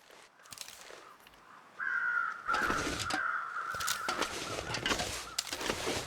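A crow caws repeatedly, loud and close, over a rustling, noisy background with a steady tonal whine, in the video game The Long Dark.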